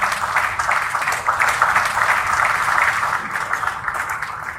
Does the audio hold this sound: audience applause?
yes